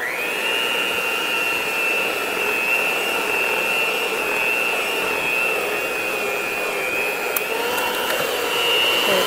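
An electric hand mixer runs steadily at close range through muffin batter before the milk goes in, a constant high whine that holds for the whole stretch without pause.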